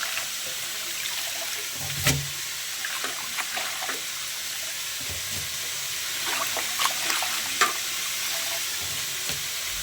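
Leafy greens washed by hand under a running tap in a kitchen sink, a steady wash of water with occasional splashes and handling knocks, close and moderately quiet, no talking.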